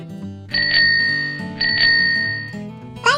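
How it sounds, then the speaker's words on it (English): A bicycle bell rings clearly in two bright rings, each with a lingering shimmer, over a soft background tune. "bicycle,"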